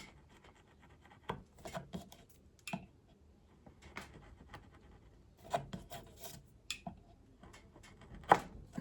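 A hand saw gently cutting a wooden guitar neck tenon, short irregular rasping strokes in bursts with pauses between, close and quiet.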